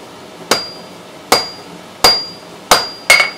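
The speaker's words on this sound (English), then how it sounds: "I'm going to come in here and now hit on my half hammer." Hot steel struck with a half hammer during forging, five sharp ringing blows spaced about a second apart with a quicker last one, close and loud, each hit leaving a metallic ring.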